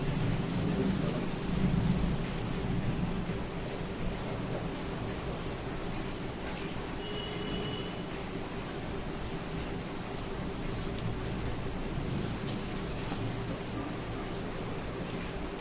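Steady rain falls throughout on a day of welcome wet weather, a dense even hiss with a low rumble beneath it and no voices over it.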